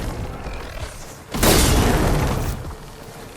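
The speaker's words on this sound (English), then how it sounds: "it looks like Zoe's giving us some supporting fire" Supporting fire blasts in Horizon Forbidden West: a loud, sudden explosive burst erupts mid-clip and rumbles on for about a second before dropping back to quieter background noise.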